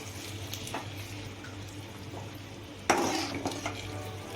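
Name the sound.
stirring milk into a potato and sweet potato sheera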